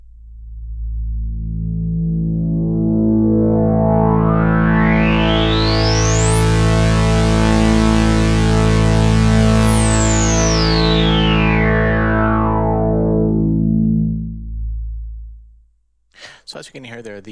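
A loud, thick Sequential Take 5 synthesizer tone with low-pass filter drive at maximum, a warm, saturated buzz and a filter sweep that opens up and then closes, holding steady for several seconds.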